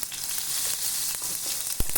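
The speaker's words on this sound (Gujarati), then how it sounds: "સરસ રીતે આપણો વઘાર થઈ ગયો છે" A tempering of finely chopped green chilli and asafoetida sizzling in hot oil for bajra flour pudla: a close, steady crackling hiss with a sharp clink near the end.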